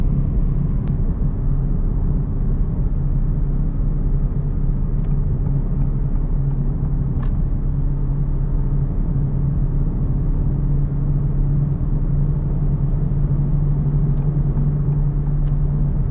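An Acura Integra Type S cruises on canyon roads, heard from inside as a steady low engine and road rumble with a droning hum and a few faint clicks, no speech.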